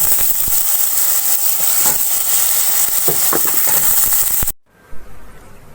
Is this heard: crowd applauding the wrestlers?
no